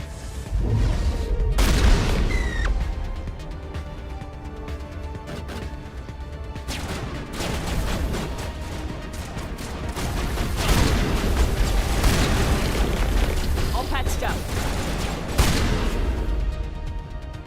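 Grenade launcher blasts in the video game Mass Effect Legendary Edition: loud, dense booms and crashing explosions repeat in bursts throughout, with rumbling debris and mechanical clatter between them and no talking.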